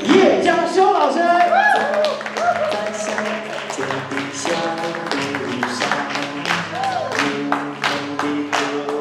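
Audience clapping at a large folk-song reunion concert in an arena, steady and dense across the whole stretch, layered under loud sustained music with a singing voice.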